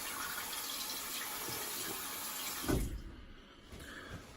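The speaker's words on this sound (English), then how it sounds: "I'm just gonna rinse" Water runs from a tap at a bathroom sink for rinsing after a wet shave, a steady splashing rush that surges briefly and then drops away to quieter trickling near the end; no speech.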